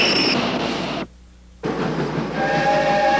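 A train rolling and gathering speed on rails, a loud continuous rumble that cuts out briefly and then returns, with a steam-whistle-like tone near the end.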